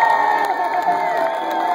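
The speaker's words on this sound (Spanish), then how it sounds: "Aplauso por la pareja número dos" A summer festival crowd roars for a competing dance couple, with steady loud cheering, whoops and shrill children's shouts blending into one sustained wall of noise.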